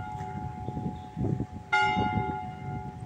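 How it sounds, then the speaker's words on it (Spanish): A bell rings out partway through, one sharp metallic strike that lingers with a bright ringing decay over a low background rumble. "ahora la campana."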